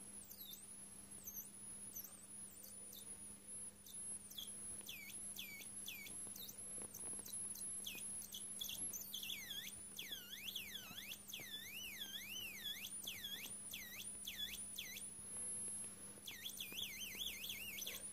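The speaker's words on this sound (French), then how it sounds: "L'idée c'est de faire une espèce de thérémine optique en fait." A homemade optical theremin gives a continuous electronic whistle whose pitch glides and wobbles quickly up and down, with rapid swooping sweeps toward the end, over a steady low hum, with no talking.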